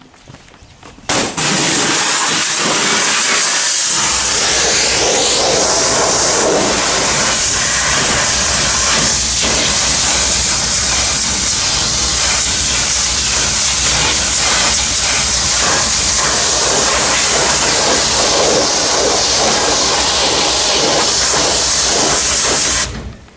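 A steam cleaner blasts a continuous loud hiss of steam at an oily, grimy engine underside, starting abruptly after a brief quiet moment and roaring on steadily with no talk.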